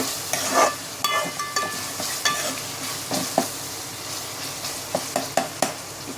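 Spices fry in tempering oil in a pan while a utensil scrapes and stirs in irregular strokes, close and fairly quiet, with no talking.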